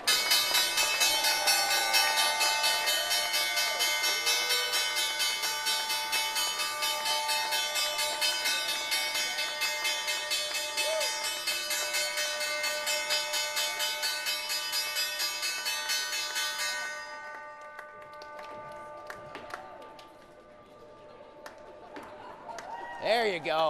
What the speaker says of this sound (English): time now for the closing bell